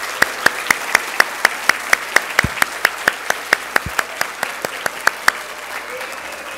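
Rhythmic applause for children and young people receiving YLE certificates at an evening ceremony, the audience clapping in unison with sharp, evenly spaced beats, a few louder accents mixed in.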